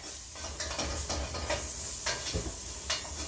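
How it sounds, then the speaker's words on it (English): Garlic and ginger sauté in a pan with a quiet, steady sizzle, broken by soft stirring scrapes at irregular moments. "We're going to saute the garlic and the ginger just until it's fragrant"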